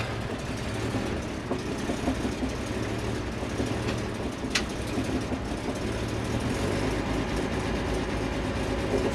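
A cold M715 Kaiser Jeep engine idles with a low, continuous rumble that rises and falls slightly as it surges, steady and fairly close with no talk.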